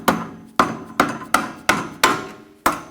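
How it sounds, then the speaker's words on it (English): A hammer taps a bolt into a front shock absorber on a 2004-2009 Audi A4 Quattro: seven sharp, close metallic strikes at a steady rhythm, each ringing briefly before the next. "Tap the bolt in."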